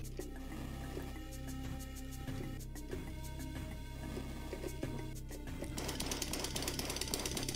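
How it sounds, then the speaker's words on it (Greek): A drill-wielding boss in the Shadow of the Beast video game, heard as a rapid mechanical hammering clatter under game music and effects, with a harsher burst of grinding noise near the end. "Λοιπόν το boss τώρα παιδιά με το τρυπάνι."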